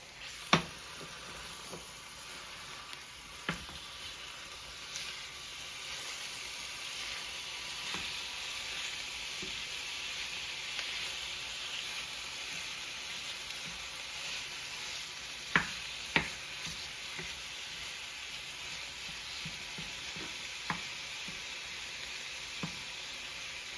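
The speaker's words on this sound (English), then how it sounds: "I'm gonna put ground beef, organic, grass-fed animals." Organic grass-fed ground beef sizzles quietly in a pan for a Bosnian dish, a steady soft frying hiss broken by occasional sharp clicks and taps of a utensil, with no speech.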